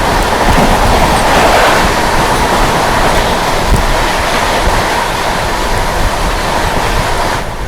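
The Navjeevan Superfast Express, running from Ahmedabad toward Chennai, roars past at close range as a continuous loud rush of wheels and wind, with rhythmic clatter over rail joints that holds steady throughout.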